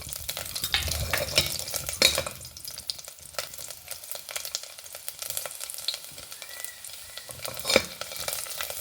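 Garlic frying in ghee for dal rice, a steady crackling sizzle with occasional stirring and light scrapes of a spoon in the pan, close and alone without any talk.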